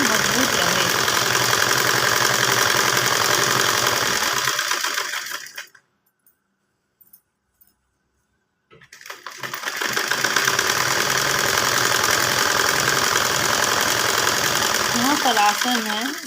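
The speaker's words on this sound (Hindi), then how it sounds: "अब हम इसकी दोबारा सिलाई लगा रहे हैं ताकि पेंट की सिलाई मजबूत रहे।" An electric sewing machine runs a second line of stitching along the seam of an elastic-waist pant, a loud, steady whirring drone that stops for a few seconds in the middle and then starts again.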